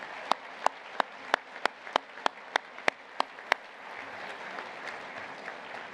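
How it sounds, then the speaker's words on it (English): A run of loud, evenly spaced single claps is followed by softer, scattered applause from a small crowd. "we would like to give another round of applause for Dick going into the College Football Hall of Fame"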